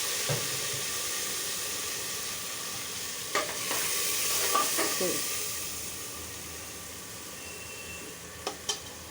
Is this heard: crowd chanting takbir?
no